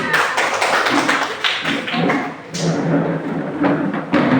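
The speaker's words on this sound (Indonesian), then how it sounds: "Oke, tepuk tangan." A group claps hands together during a school coding lesson, the sharp claps coming in a quick rhythmic series of repeated bursts that carry on for several seconds.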